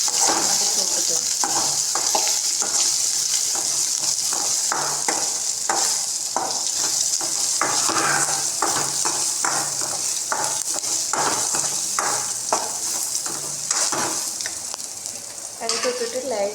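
Vegetables stir-fried with turmeric powder in a pan, giving a steady close sizzle with repeated scraping and stirring strokes of a utensil against the pan and occasional light clinks.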